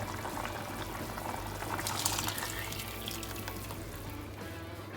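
Cream-enriched cauliflower soup boils in a pot, a steady close bubbling and gurgling that swells slightly midway with no voices.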